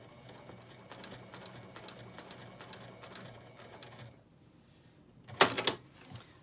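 A sewing machine quilts a small pumpkin hot pad through layers of fabric and batting, giving a steady run of rapid needle ticks and motor whir that stops abruptly, followed after a pause by a few louder close clacks.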